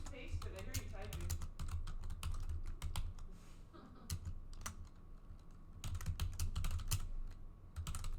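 Rapid, irregular clicking of computer keyboard keys being typed during a game livestream, close and distinct, with brief pauses, over a low background hum.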